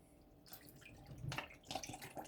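Water from two plastic bottles poured into a cooking pan, giving a splashing, trickling pour that starts after a brief quiet moment and swells in bursts, close and moderately loud.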